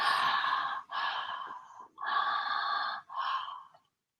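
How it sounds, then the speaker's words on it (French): Four long, forceful breaths drawn and pushed through the mouth in a breathing exercise, each a loud airy rush separated by brief gaps, close up with no talking. "c'est une respiration par la bouche"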